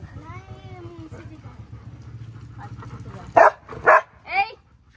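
Dogs give three loud, close barks in quick succession near the end, after a stretch of people talking with low background noise.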